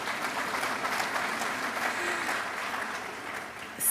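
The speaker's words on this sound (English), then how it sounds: "Clap for KNUST." A large audience at a KNUST university congregation applauds steadily, a dense, even wash of clapping that carries on for several seconds.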